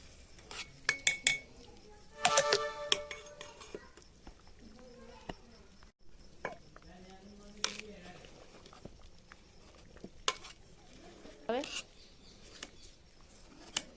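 Ghuto, a Jamnagar-style vegetable dish, being stirred and mixed in a pot, with scattered clinks and scrapes of a metal spoon against the vessel, loudest in a short burst early on, while a person talks throughout.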